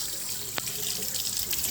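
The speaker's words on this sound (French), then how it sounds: "vous pouvez voir le niveau de l'eau, la façon comme l'eau elle coule" Water streams steadily from a faucet nozzle attachment into a sink, a close, continuous hiss and splash with a brief drip-like tap partway through.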